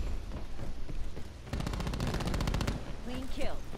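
Automatic gunfire in the video game Call of Duty: Black Ops 4, a rapid burst of shots after a quieter stretch of game ambience, followed by fainter game effects.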